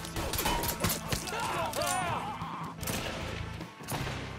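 Gunfire in the crime video game Mafia III, scattered sharp shots and bursts mixed with game effects and music, with a voice talking over parts of it.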